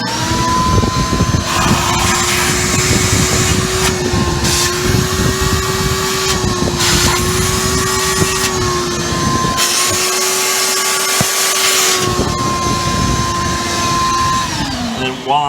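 A steady power-tool whine with a droning vacuum hum runs throughout, loud and continuous, fading out at the very end.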